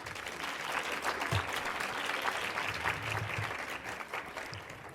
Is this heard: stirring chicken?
no